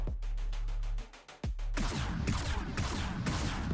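Rapid turret gunfire in the VR tower defense game Strike Command: a fast, evenly spaced string of shots, a brief lull, then a denser, louder barrage of overlapping fire.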